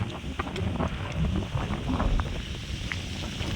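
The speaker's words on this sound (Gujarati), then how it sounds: "બહુ પવન છે." Strong wind buffets the microphone in continuous low rumbling gusts, with faint background noise and no voices, outdoors on the road to Dwarka in stormy, rain-threatening weather.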